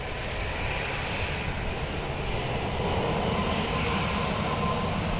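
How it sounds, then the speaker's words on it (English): A Southwest airliner taxis at Phoenix Sky Harbor airport, its engines giving a loud, steady, close roar that holds for the whole stretch and swells slightly midway, with no voices. "the Southwest is basically taxiing at Mach 1 speeds"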